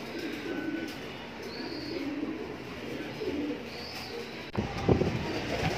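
Racing pigeons of grizzle type, kept in a loft, coo in soft low repeated calls, with faint chirps and a brief rustle near the end over quiet background ambience.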